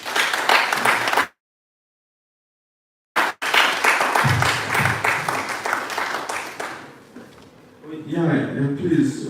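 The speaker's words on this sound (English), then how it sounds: "I just want us to give a round of applause for them again" Applause for a panel at a casual Sunday church session, in bursts broken by a sudden silence, then resuming with voices speaking over the clapping and crowd.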